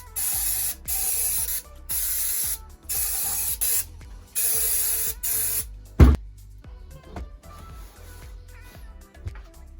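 Cleaner sprayed in repeated hissing bursts into a Paslode first-fix nail gun, close and loud, several long sprays in a row followed by a sharp clack and quieter handling noises.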